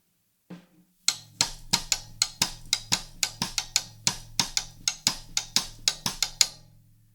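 A 2-3 son cascara pattern is tapped on the rim of a drum tom, producing crisp, dry, woody clicks in a steady syncopated rhythm after a single soft lead-in hit, close and alone.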